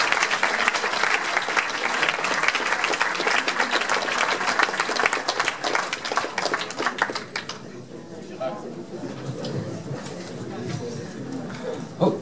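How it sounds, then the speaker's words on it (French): Audience applauding after a lecture, loud dense clapping for about seven seconds that then drops away, leaving room noise and murmuring voices. "Et vous pouvez l'applaudir dans le débat."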